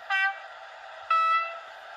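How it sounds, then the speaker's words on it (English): Two sounded blasts of a two-tone diesel horn from an H0 scale model locomotive's sound decoder, each short and bright with a fading tail, separated by a brief gap over a steady running hum. "It has the typical horns."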